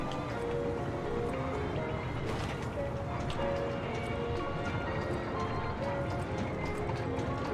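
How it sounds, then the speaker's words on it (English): Horses gallop in the action game Lies of P: Overture, a dense continuous clatter of hooves over a loud, busy rumbling backdrop that stays steady from start to finish, without talk. "Got wrecked by horses."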